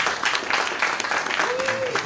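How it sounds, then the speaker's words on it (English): Applause from a graduation audience at a fatherhood program ceremony, steady dense clapping filling the room at moderate distance, with faint voices and a brief tonal whistle or cheer near the end. "I'd like for you to give yourself a hand clap right now."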